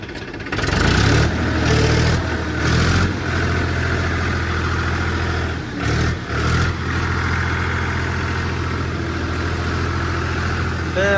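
A tractor engine on monster tyres holds a steady, low-RPM idle with a deep continuous rumble, heard up close and loud for the whole stretch, with a few brief dips and surges partway through.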